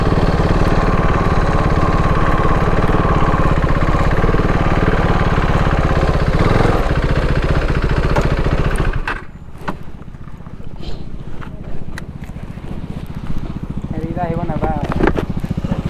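A group of motorcycles rumbles loudly nearby, several engines idling together with steady throb, then the noise drops to a quieter idle and scattered movement, with people talking over it.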